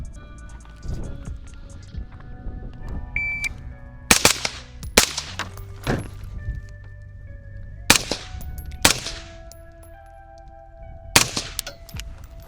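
Sharp, loud gunshots fired in a timed shooting drill, about eight spaced cracks with ringing tails, interspersed with quieter handling clatter and a low background hum.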